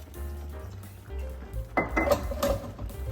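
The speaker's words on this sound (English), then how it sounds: "Just kind of start stirring it all in." A spoon stirs brisket birria ingredients with Bragg's apple cider vinegar in a bowl, giving soft scraping swishes followed by a few sharp clinks of metal on the bowl, quiet and close.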